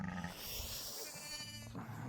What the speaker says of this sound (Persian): ایناش گوسفنده